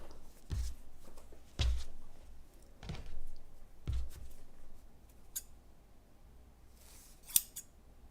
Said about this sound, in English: I'm going to use scissors to cut the ribbon.